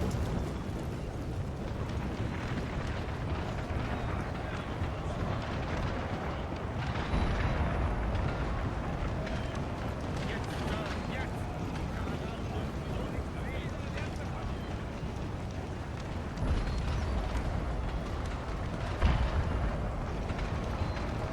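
Artillery batteries fire in a large-scale Napoleonic battle in Napoleon Total War, with dense, rumbling booms rolling continuously under a steady roar of battlefield noise and commentary talk, swelling into heavier bursts now and then.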